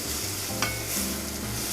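Onion and garlic sizzle in a skillet for a brief moment, a steady close hiss with a single light stir clink partway through.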